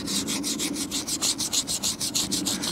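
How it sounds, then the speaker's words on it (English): A toothbrush scrubs green algae and dirt off a caravan's exterior panel in a steady, close, rhythmic back-and-forth brushing with regular strokes and no talking. "we're going to take our toothbrush. And in this area where you can see the green, we're going to gently scrub it away."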